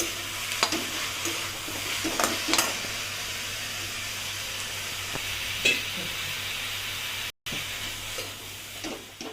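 Capsicum and chopped onions sauté in a hot pan with a steady, close sizzle, broken by occasional scraping stirs and a brief dropout near the end.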